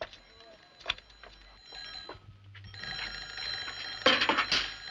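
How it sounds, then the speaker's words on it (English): An old-style telephone bell rings in repeated bursts, growing louder toward the end, with faint room noise and a murmuring voice in the background. "The telephone's ringing."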